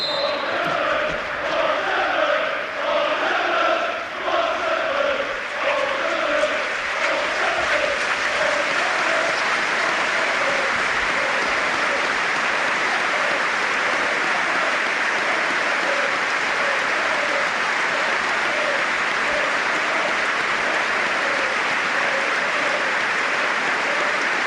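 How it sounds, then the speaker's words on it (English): Stadium crowd at an Ipswich Town versus Manchester City football match gives a minute's applause for Dennis Law, a loud, sustained roar of clapping with rhythmic chanting pulses early on, lasting throughout. "it was meant to be silence, but it turned into a minute's applause for Dennis Law"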